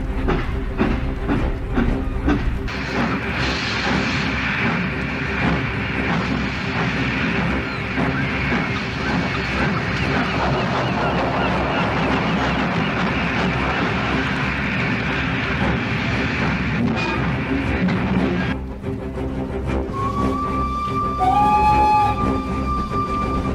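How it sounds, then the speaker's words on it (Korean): Cartoon freight cars rattle and chug steadily behind Henry the green engine, a loud continuous rumble of wheels on rails, followed near the end by a short whistle-like tone. "화물차들은 칙칙폭폭 소리를 내며 헨리를 따라다녔죠"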